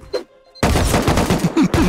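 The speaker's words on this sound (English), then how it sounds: "I hate gunshots" A sudden dense burst of rapid gunfire in the video game Rust, loud and close, continuing steadily after a brief faint sound and silence.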